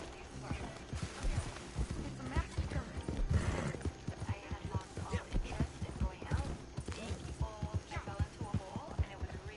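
Horse hooves clip-clop steadily in the video game Red Dead Redemption 2, several horses trotting close together with occasional whinnies, under game music and a speaking voice.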